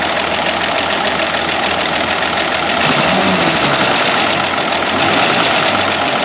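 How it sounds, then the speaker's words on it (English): A 1969 Land Rover Series 2a six-cylinder engine idles steadily and loudly with a rhythmic ticking tappet knock throughout, rising slightly in revs partway through. "There's a tappet making a bit of a noise,"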